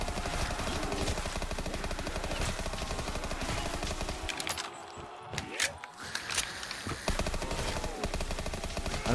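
A PPSh submachine gun fires rapid automatic bursts in a Black Ops custom zombies game, a dense rattling stream that breaks off briefly mid-way and then resumes, steady and fairly loud.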